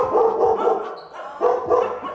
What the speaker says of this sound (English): I'm sure you've heard the dogs, as you can hear now.